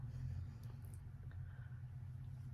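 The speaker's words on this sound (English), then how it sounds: "Someone in a truck is parked outside, so if you hear that, I'm sorry." A truck parked outside idles with a steady low rumble, faint and muffled through the walls, with a few soft indoor clicks and no talk.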